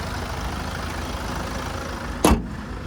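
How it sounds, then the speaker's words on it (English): A 2018 Kia Carnival S diesel engine ticks over at a steady idle, a constant low rumble close by with no knocks or rattles, broken near the end by one brief sharp clunk. "as we listen to it ticking over, no major knocks, rattles or squeals, just that diesel motor running nicely"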